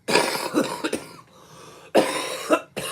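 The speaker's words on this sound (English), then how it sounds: "That cough is just nasty." Several harsh, close coughs in bursts, with a short quiet pause between the first cluster and the last two.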